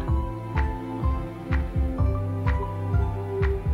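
A heartbeat sound effect pulses steadily at close range, a low double thump roughly every half second with a faint hum beneath, loud and alone without voices.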